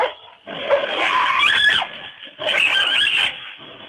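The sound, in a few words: dog barking and squealing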